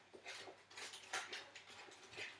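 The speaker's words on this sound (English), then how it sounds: "now I'm gonna place them in the vapor cooker" Artichokes are set into a metal steamer pot, making a quick series of quiet clinks, knocks and scrapes of metal and vegetable against the pot, close and faint with no talk.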